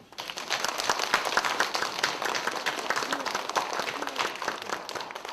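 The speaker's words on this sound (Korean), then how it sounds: "하나님께 우리 감사 박수" At a Korean church Christmas Eve service, the congregation claps in thanks to God, with a busy patter of many hands rising quickly and holding at a moderate, fairly steady level.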